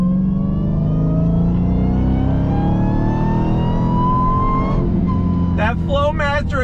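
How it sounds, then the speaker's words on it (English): A modified 2021 Dodge Charger Hellcat Redeye with a Flowmaster exhaust accelerates hard, its supercharger whine climbing steadily in pitch over a loud engine roar before the revs drop, then a brief shout. "That supercharger whine is worth every single penny, every bit of engineering."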